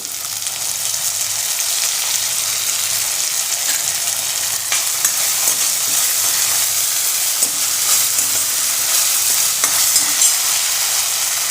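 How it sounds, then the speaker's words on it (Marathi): Ginger, garlic, cumin and chili paste with wet garlic chutney sautéing in a pan for a sesame onion paratha, a loud, continuous close sizzle with faint stirring clicks scattered through, no voices. "पेस्ट आहे ती घालूयात थोडंसं परतून घेऊ एक चमचा ओली लसूण चटणी घालायची"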